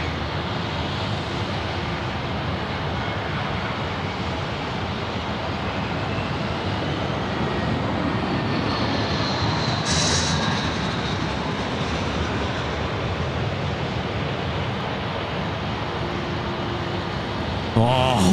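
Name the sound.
Jetstar Airbus A320 landing overhead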